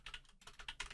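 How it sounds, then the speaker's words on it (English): Fingers type on a computer keyboard while a Love2D game tutorial is being coded, a quick run of faint, close key clicks in uneven bursts with no talking. "So we're going to create them now by typing function."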